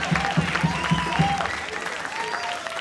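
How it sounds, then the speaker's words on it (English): Audience applause at a 1992 FIU Concert Jazz Band concert, a short burst of clapping with rhythmic tapping underneath, fading out gradually. "save your applause"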